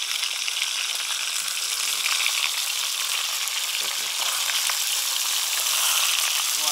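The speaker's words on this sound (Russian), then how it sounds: "картошка жарится в масле" Potatoes fry in very hot oil in a kazan alongside meat for Uzbek kazan kabob in Tashkent, a continuous loud sizzle and crackle with occasional stirring sounds and no talk.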